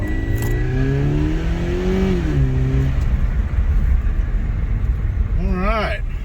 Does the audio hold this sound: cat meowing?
no